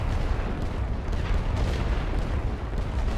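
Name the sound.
artillery fire in a Great War video game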